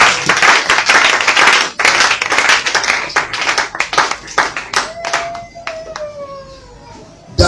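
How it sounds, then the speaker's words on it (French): A church congregation claps loudly to acclaim the Lord, dense overlapping handclaps in a steady rhythm that thin out toward the end, with scattered voices and a voice mixed in. "Acclamez d'abord pour le Seigneur."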